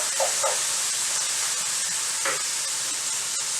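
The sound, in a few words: noodles sizzling in a pan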